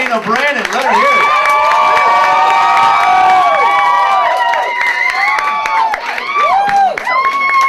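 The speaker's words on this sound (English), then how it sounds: "Keep those claps going." A comedy club audience claps and cheers loudly for a female comedian, the whoops and shouts rising over sustained clapping while a voice calls out above the crowd.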